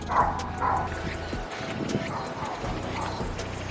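A dog outdoors barks at a passing walker, giving two quick barks at the start, followed by scattered yips amid street background noise and some talk.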